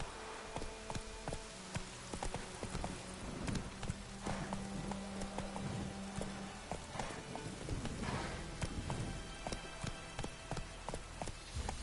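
Horse hooves clip-clop at a steady trot in The Witcher video game, continuous and fairly close, layered over ambient outdoor game sounds and a low musical tone.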